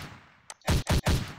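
A weapon fires in a VR multiplayer shooter on Oculus Quest, built with Photon PUN 2. Three loud, booming shots come in quick succession after a faint click.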